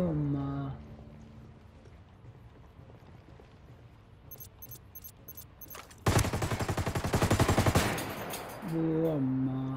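Automatic gunfire in the video game Ghost Recon Wildlands bursts out in a loud, rapid, sustained volley after quieter ambient moments, with brief voice sounds before and after.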